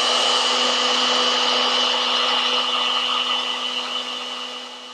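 A router with a 3/8-inch bit and guide bushing cuts wood along a template to shape rear chair legs, a loud, steady high-pitched whine that tapers off slightly toward the end.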